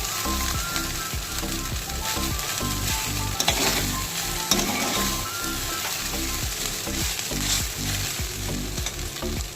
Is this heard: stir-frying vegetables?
yes